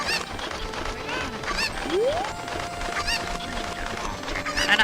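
Chickens cluck and squawk in the video game Zelda Ocarina of Time, with repeated short game sound effects over steady background music and a rising swoop midway.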